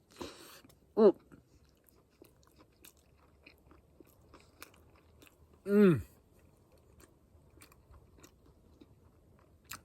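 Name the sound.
chewing and eating pickles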